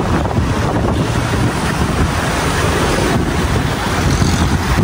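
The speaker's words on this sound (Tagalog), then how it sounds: "Lakas ng hangin." Strong wind buffets the microphone outdoors near a parking area, a loud, continuous rumbling roar with gusty swells and no talk over it.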